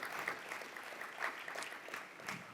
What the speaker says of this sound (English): Round of applause for this idea,